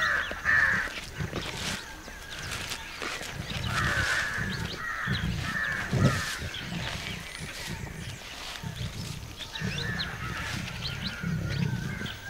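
Crows caw repeatedly over a tiger kill in a park where vultures also gather, the harsh calls coming in close, overlapping bursts above a steady low rumble of wind and ground noise.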